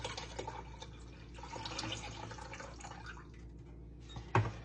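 Chicken broth poured from a container into a cooking pot, a soft continuous liquid splashing and trickling close by, ending with a brief louder clunk.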